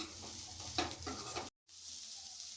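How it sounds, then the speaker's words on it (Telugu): Cauliflower pieces coated in chili powder and salt are stir-fried in a pan, with a soft sizzle and a few close scraping stirs. "అడుగు పట్టకుండా మధ్య మధ్యలో ఇలా కలుపుతూ ఈవెన్గా ఫ్రై చేసుకోవాలి."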